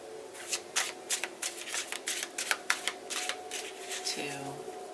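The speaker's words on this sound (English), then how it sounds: "Alright, do 3 shuffles." Tarot cards shuffled by hand in quick, repeated riffles and snaps, close and fairly soft, with a faint low hum underneath.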